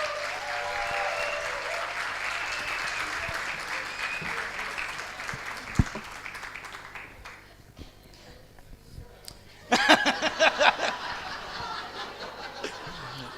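Applause for a guest pastor at a Vineyard church service in San Bernardo, Chile: a clapping crowd for the first seven seconds fades to quiet murmurs, then a brief louder burst of clapping and cheering returns near the end.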